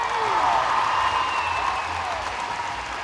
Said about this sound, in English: The home crowd erupts as she lands that great dismount.